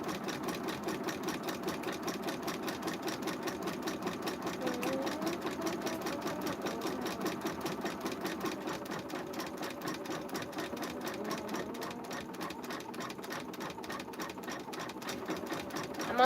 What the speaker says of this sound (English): This is only a 6-minute stitch out, so I'm hoping everything goes smoothly.